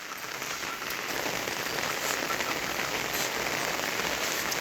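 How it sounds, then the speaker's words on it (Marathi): Rain pours down on a surface in a constant soft patter, steady and unbroken, with nobody speaking. "बघा हे कसा दिसायलाय पाऊस"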